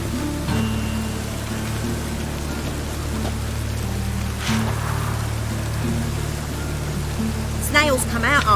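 Rain falls as a steady, even hiss with a low droning hum underneath, a faint bird-like chirping flutter rising near the end.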